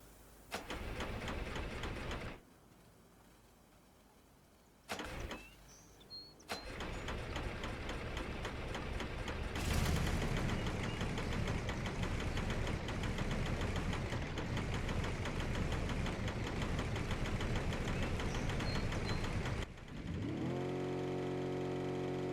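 A rough, clattering engine of a 1963 Volkswagen Beetle in the video game BeamNG.drive cranks and catches, then settles into a loud, uneven idle that runs on steadily with a knocking, rattling texture.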